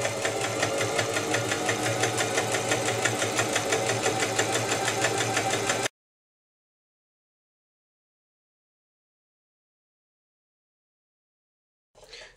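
A sewing machine stitches slowly around a fabric wing for an Easter chicken basket, a close, steady mechanical whirring hum that runs for several seconds, then stops into silence before a brief burst at the very end.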